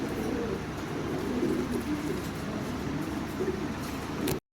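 Lahore pigeons coo steadily in a low, rolling murmur, several birds close together with a constant burble of background noise, no voices.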